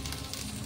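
Pork, tomato, carrots and chorizo sautéing in a pan, a steady, even sizzle with a soft crackle that holds without a break for a moment.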